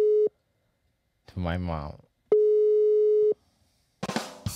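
Phone call ringing tone routed over Bluetooth through a RØDECaster Pro II: a steady mid-pitched tone sounds briefly, then again for about a second, loud and clean, with a voice speaking between the tones and after them.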